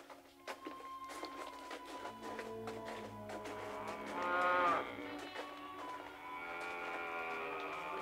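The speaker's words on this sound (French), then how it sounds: "Qu'est-ce qu'elles ont à meugler comme ça?" Several cows moo in long, drawn-out calls, one overlapping another, with a louder bellow midway and quiet background shuffling.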